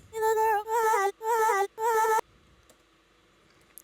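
Chopped-up lead vocal sample in a music track: four short, evenly spaced sung bursts with a clear harmonic tone, each cut off abruptly, followed by near silence and a faint click at the end.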